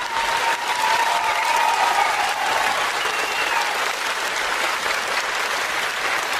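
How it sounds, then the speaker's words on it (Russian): A concert hall audience giving a standing ovation, sustained thick applause from a large crowd with faint cheering and whistles rising now and then above the clapping. "Зал аплодировал им стоя."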